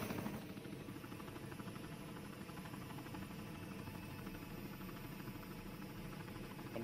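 Helicopter engine in the ARMA 3 military video game, a steady droning rotor and turbine hum running loud and continuous throughout, with no voices over it.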